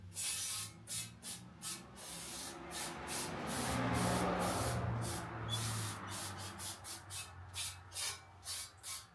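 Brake cleaner hisses from an aerosol can onto brake parts, first in short bursts, then a long steady spray, then another string of quick, rhythmic bursts, close and moderately loud.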